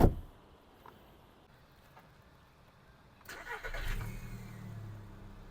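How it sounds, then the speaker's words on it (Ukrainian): A 2007 Volkswagen Golf Plus with a 1.6 MPI petrol engine cranks and starts after a quiet pause, then settles into a smooth, quiet idle close by. "Мотор завівся чітко, працює тихо, рівно, без зауважень."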